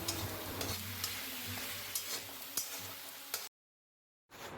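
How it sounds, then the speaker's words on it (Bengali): Spice masala is stirred with a metal spatula and sautéed on low heat, giving a close, steady sizzle with occasional scraping clicks, then cutting to brief silence before the sizzle returns. "এবার আমি খুন্তি দিয়ে মশলাগুলোকে খুব ভালো মতন মিশিয়ে নিই এবং আঁচ কমিয়ে নিয়ে কষিয়ে নিচ্ছি।"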